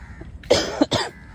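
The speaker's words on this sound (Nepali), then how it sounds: "खोकी लागेर नि" A person coughs twice in quick succession near a building's security checkpoint in Malaysia. The coughs are close, sharp and fairly loud, with a brief rasp between them over a quiet background.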